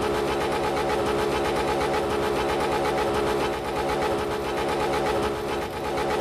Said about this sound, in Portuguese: Escapamento top, né?